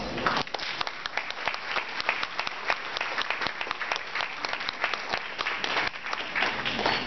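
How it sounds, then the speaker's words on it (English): An audience at a business event on China and global trade gives a warm burst of applause, dense and steady with some crowd murmur mixed in. "I think she deserves a warm applause."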